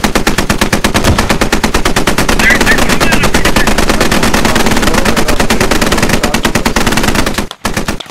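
A .50 caliber machine gun in the video game Squad during an MRAP convoy fires as a sustained, very loud, rapid unbroken burst lasting several seconds, ending abruptly, with brief voice chatter underneath.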